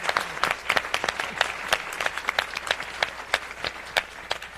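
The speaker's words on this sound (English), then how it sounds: "can we give a big round of applause to Lisa for moderating for us?" An audience at a campus panel conversation with deans applauds a moderator, with a steady patter of many hands clapping at moderate loudness and a few sharper individual claps standing out.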